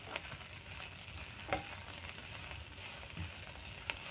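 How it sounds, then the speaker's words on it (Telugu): Moringa leaves and sliced onions frying in a pan, giving a steady, faint sizzle with a few soft stirring knocks throughout, no voices. "ఉల్లిపాయలు ఆకు పట్టేలాగా ఇదిగోండి ఈ విధంగా బాగా ఫ్రై చేసుకోవాలి"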